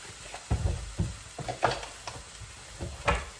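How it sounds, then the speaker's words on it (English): Beef suya being stirred in a pan with cayenne pepper, giving soft scraping strokes over a low sizzle, close and fairly quiet, with irregular spoon knocks. "Just gonna keep stirring."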